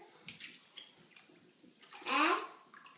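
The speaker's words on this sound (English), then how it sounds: "You want to pour the water on your hair?" Water poured over a child's hair in a bathtub, a short splashy gush near the end following quieter rustles and small drips, close and fairly soft.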